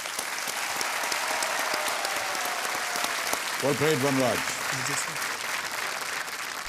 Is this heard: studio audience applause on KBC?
yes